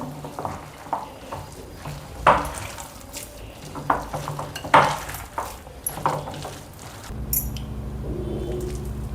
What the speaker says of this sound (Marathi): आता हे चांगलं मिक्स करून घ्यायचं।